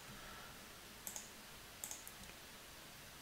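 A few sharp, quiet clicks in small clusters over a faint background hiss, like a computer mouse being clicked.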